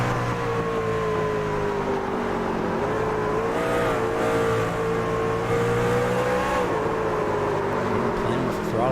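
A race truck's engine revs and drones steadily in a racing video game at Gateway, pitch rising and falling with the throttle under continuous commentary voices.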